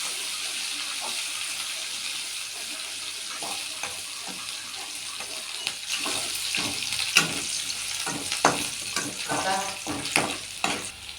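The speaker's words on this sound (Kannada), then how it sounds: "ನೆಕ್ಸ್ಟ್ ಮೆಣಸಿನ್ಕಾಯಿ ಎಲ್ಲ ಫ್ರೈ ಮಾಡಿಬಿಟ್ಟು" Green chillies fry in hot oil for gobi manchurian, a soft steady sizzle that grows busier halfway through, broken by repeated close scraping and stirring knocks in the pan.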